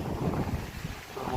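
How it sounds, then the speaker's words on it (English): Wind blows into an outdoor microphone, a rough rumbling buffet that runs the whole moment, with a voice faintly present underneath. "it's very windy."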